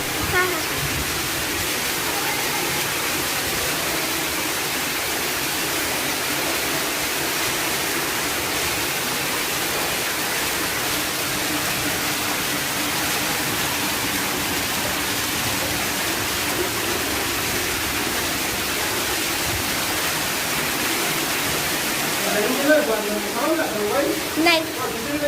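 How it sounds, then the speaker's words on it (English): Heavy rain water pours down the stairs of a house in Hyderabad's Old City like a waterfall, a steady loud rushing wash throughout, with more splashing near the end. "flows in my house like a waterfall"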